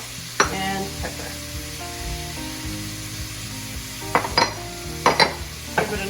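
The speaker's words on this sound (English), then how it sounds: "Give it another good stir" Vegetables sautéing in a soup pot for tortellini and vegetable soup, a steady sizzle and fry with a spoon stirring and scraping against the pot in several bursts, close and clear with no talk.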